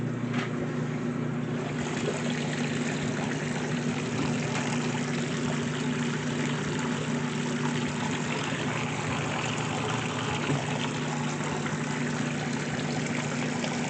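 Water gushes steadily into the drum of a 2024 GE top-loading washing machine on a normal cycle, a continuous, fairly loud rushing fill with a low pump-like hum running beneath it throughout, no talking.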